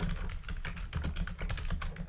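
Rapid typing on a computer keyboard, a close run of quick, uneven key clicks and taps with no voice.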